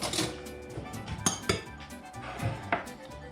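A metal spoon clinks against dishes and utensils in a home kitchen during pizza making, with a few sharp, bright taps spaced over a few seconds, close by, and no voices.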